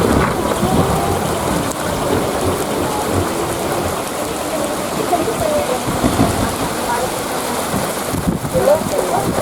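Steady heavy rain pattering on surfaces with rolling thunder in a windy storm, continuous and fairly loud throughout, with a voice heard faintly beneath.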